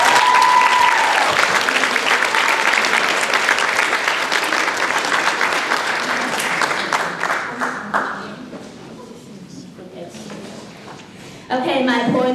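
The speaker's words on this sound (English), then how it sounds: "Let's give a big round of applause to our extraordinary Chinese expert" Big burst of audience applause at an awards night for a Chinese language expert, loud dense clapping that fades after about eight seconds, then a voice speaks near the end.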